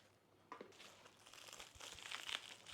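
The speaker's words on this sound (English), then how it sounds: "So let's quickly unwrap this also." Crinkling and tearing of plastic packaging as a motorcycle top rack for a TVS Ronin is unwrapped, close-up bursts of rustling that grow busier toward the end.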